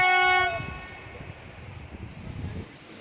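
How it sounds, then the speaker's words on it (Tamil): Horn of the Ooty toy train on the Mettupalayam–Ooty mountain railway gives one loud, steady toot lasting about half a second, then trails into rumbling carriage noise and hiss. "ஹார்ன் அடித்து எல்லாத்தையும் கூப்பிட்டாங்க"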